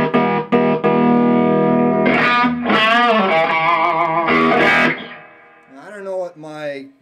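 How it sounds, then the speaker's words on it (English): Microphonic feedback from the pickups of an Electra 2259 electric guitar, unwaxed neck and waxed bridge, through a cranked amp: loud, heavily distorted, wavering and voice-like squealing tones that swell and fade across several seconds. "show you the difference in my microphonics between the unwaxed neck pickup and the waxed bridge pickup here"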